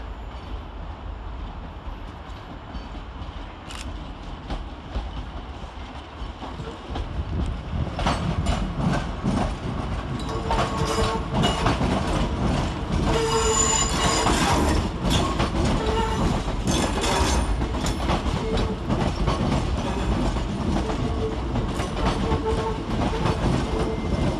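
A ScotRail train moves through Glasgow Central railway station, wheels clattering over the rails in a steady rhythm. The rolling noise is loud and close and builds as the train comes on, with no voices.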